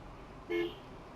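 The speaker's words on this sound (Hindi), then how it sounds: "इसीलिए हॉर्न देते हुए हम आ रहे हैं" A single short car horn toot sounds at moderate distance over a low, quiet traffic rumble, on the road from Mysuru to Madurai in India.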